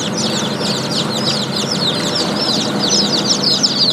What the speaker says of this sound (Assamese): বহুত পোৱালি ওলাইছে।